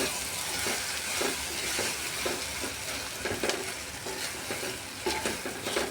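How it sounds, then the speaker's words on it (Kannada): Coriander frying in oil in a pan for a home-style tomato saru, a steady close sizzle with scraping stir strokes at a regular rhythm, alone without voices. "ಇದನ್ನ ಸ್ವಲ್ಪ ಎಲ್ಲ ಫ್ರೈ ಮಾಡ್ಕೊರಿ ಹಿಂಗೆ ತಿರುವಿ"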